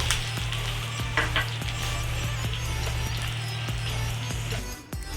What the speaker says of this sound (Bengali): এবার ওই তেলের মধ্যে রসুন দিয়ে দিলাম রসুনটি আমি হালকার ওপর ভেজে নেব